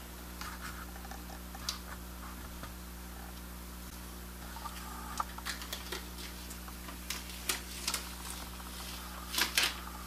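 Backing being peeled off glued-on tire letters, quiet sticky crackles and ticks scattered irregularly over a low steady hum, with a denser burst of crackling near the end.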